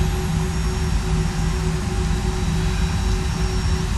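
Jet airliner engines idling in the X-Plane flight simulator, both engines running in a steady, loud droning roar with a constant high whine and low rumble, unchanging throughout.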